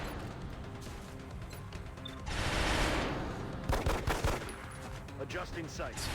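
Pistol gunfire in XCOM: Enemy Unknown, a brief burst of sharp shots in mid-clip followed by a quick run of cracking reports over a steady game background.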